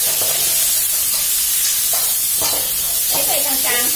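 Squid stir-fries in a hot pan with oyster sauce and fish sauce, a continuous loud sizzle broken by scraping stirs and bursts of spattering, with faint talk in the background.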